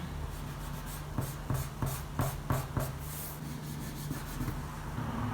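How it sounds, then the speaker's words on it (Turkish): A rubber eraser scrubs pencil lines off paper in a handmade planner notebook, a run of short, quick rubbing strokes in a rhythmic burst, close and fairly faint over a steady low hum. "Şimdi işimiz bittikten sonra şurada silgiyle kurşun kalemle çizdiğim yerleri sileceğim."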